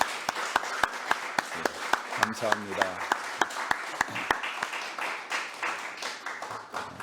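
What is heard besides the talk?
church congregation applauding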